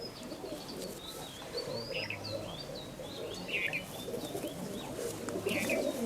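Soft, low cooing from Madrasi Kalanka pigeons runs through a busy loft, with sharper chirps from other birds overhead and no talking.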